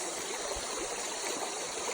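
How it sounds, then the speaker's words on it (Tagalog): River water rushes in a steady, close, hissing flow during a river crossing in Baggao, Cagayan in the Philippines, with no voices over it. "So I'm crossing the river."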